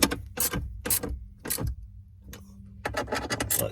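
Screws are tightened on a Jeep Wrangler JK dash plate, giving a run of close, clicking mechanical bursts separated by short pauses, with a faint hum in the quieter stretch.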